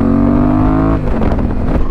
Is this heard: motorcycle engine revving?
yes